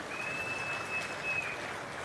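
Steady applause from a crowd at an outdoor government health programme event in a village, dense and continuous throughout without pauses, heard at moderate distance with a faint high tone running across it.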